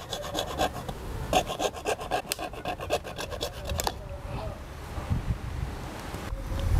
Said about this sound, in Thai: วิธีตัดนะครับเราจะใช้กรรไกรตัดท่อตัดหรือจะใช้เลื่อยตัดเหล็กแบบนี้นะครับ